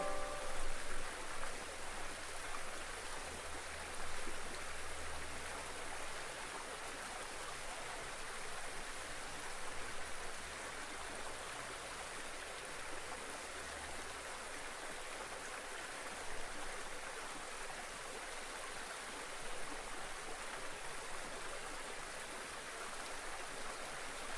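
Steady broadband rushing of a flowing river, continuous and even throughout with no voices, a soft low rumble underneath the bright water wash.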